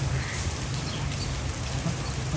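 Heavy monsoon rain pours in a constant dense roar, close and loud, with a low rumbling undertone and no voices.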